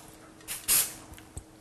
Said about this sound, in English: a product by Andis, a Cool Care spray, which allows you just to be able to just spray